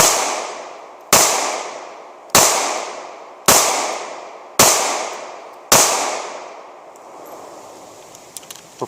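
Six sharp Ruger LCP II pistol shots ring out at a steady pace about a second apart, each a loud crack with a quick decaying echo, followed by quieter handling clicks.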